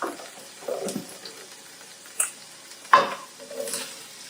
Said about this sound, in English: now I'm going to add the veggies to the skillet, starting with the onions. Those sauteing.